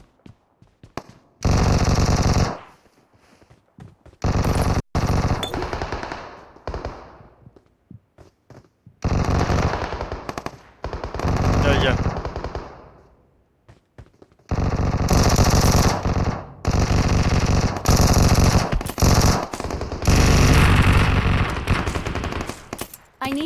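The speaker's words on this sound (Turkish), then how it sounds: "Çok silah sesi var gerçekten." Bursts of rapid automatic gunfire in PUBG Mobile come in loud, sustained volleys separated by short pauses, with heavier sustained firing in the second half.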